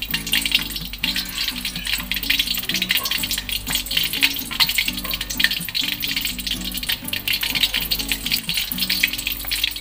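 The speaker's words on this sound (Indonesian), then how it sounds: "Kita goreng dengan api kecil ya." Chicken pieces in batter frying in hot oil over low heat, a continuous close sizzle and crackle with steady bubbling, alone, with no one talking.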